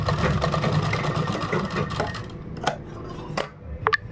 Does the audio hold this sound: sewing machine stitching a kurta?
yes